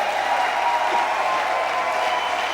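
A church congregation applauding during a French-language worship service, a steady wash of many hands clapping together, dense and sustained, filling the room with no one speaking over it.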